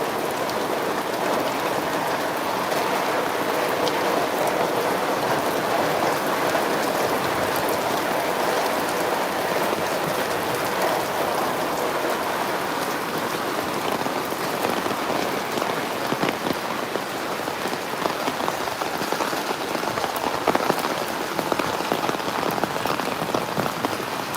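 Steady rain falls on a plateau garden with pumpkins and pole beans, a dense, continuous hiss of drops pattering on leaves and ground, close and even throughout with no voices.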